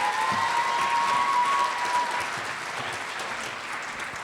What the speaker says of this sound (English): Please give a hand clap to Mayor Farrell.